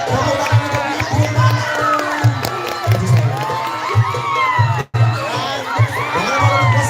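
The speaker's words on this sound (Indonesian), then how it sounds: "Tepuk tangan untuk Ipul." Crowd at a Ramadan youth fashion show cheers, whoops and shouts for a contestant named Ipul, excited children's voices over rhythmic clapping, loud and lively throughout.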